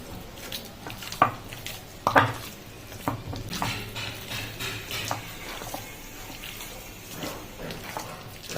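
Chicken pieces are worked by hand with black salt in a bowl, giving soft wet squishing and occasional clinks against the dish, fairly close and moderate in level with no talking.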